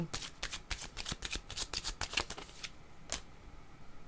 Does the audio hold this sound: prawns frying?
no